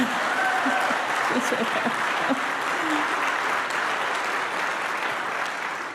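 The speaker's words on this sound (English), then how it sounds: "Give him a round of applause" A town hall crowd in Seattle gives sustained applause, a dense, steady wash of clapping that fades slightly at the end, with a voice briefly speaking over it.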